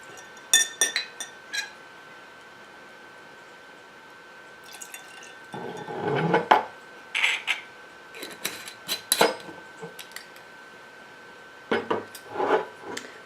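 Tanqueray gin is poured into a glass, with scattered clinks and short liquid splashes, a quiet mix of glass taps and pouring bursts in a calm room.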